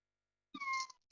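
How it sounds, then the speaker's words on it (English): Single short cat meow, close and clear with a rising-falling tone, followed by a tiny faint chirp, in an otherwise quiet room. "why are you meowing at me?"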